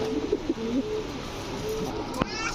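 Large Pakistani chuithal kaldom pigeons coo in several soft, close, rolling bursts early on, then again more faintly, with a sharp click near the end.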